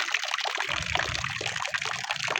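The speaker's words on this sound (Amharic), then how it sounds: "ከዚህም ውሃ እያጠራቀምኩ ነው በበርሜል" Water trickles and splashes into a barrel during water collection on a farm, a steady close hiss of running liquid with soft sloshing pulses underneath.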